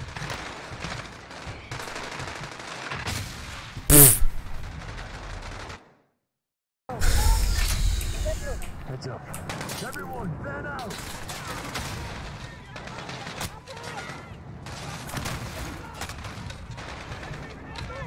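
Dense, sustained machine-gun and rifle fire in the Modern Warfare campaign, loud continuous bursts with one sharp close blast and a brief silent gap, voices calling out in between.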